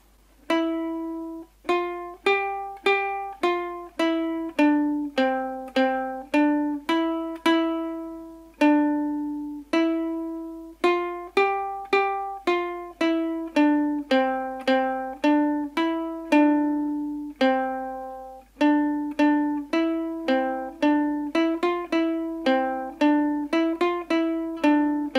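Ode to Joy played on a ukulele as a slow, clear plucked melody, each note ringing and decaying in a steady rhythm, solo with no voices, close and moderately loud.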